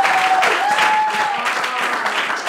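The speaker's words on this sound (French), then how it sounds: "Est-ce qu'on peut les motiver encore avec des applaudissements?" Audience applause at a live quiz competition show, a steady clatter of many hands with a sustained whistle-like tone running through the first half.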